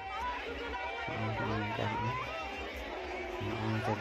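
Dense crowd chatter fills the Chargoi Tusu fair, an unbroken babble of many voices close around with occasional louder calls rising above the hubbub.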